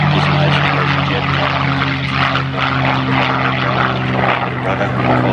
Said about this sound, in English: listen here to the sound of the Mustang taking off, that beautiful Merlin.